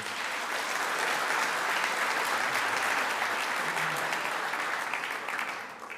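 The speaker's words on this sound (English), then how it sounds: "Please, a round of applause for everyone in this room" A sustained round of applause fills a room at a high school all-sports award banquet, dense and steady clapping from many hands that fades slightly at the end.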